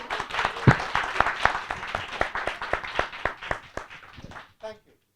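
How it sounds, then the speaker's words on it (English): Clapping from an audience at a literature festival session: a run of distinct, fairly rhythmic individual claps, close and crisp, that slows and stops, followed by a brief bit of speech at the end. "If you're going to clap at all, then clap properly"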